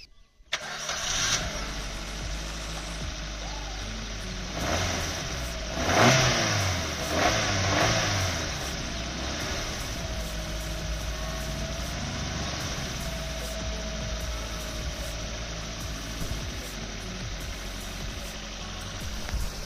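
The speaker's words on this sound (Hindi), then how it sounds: "इसका इंजन कुछ इस तरह का आवाज़ करता है, जो कि काफ़ी साइलेंट है" A Maruti Suzuki Baleno engine is heard close with the hood open: it starts, revs briefly, then settles into a quiet, smooth and steady idle hum for the rest of the stretch.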